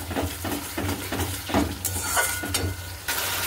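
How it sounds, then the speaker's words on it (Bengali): Turmeric, chili powder and salt fry in a pan with a steady sizzle, punctuated by rhythmic scraping strokes of a spoon stirring the spices, close and continuous without speech. "হলুদ, লঙ্কার গুঁড়ো আর নুন দিয়ে দিয়েছি, দিয়ে কষিয়ে নিই"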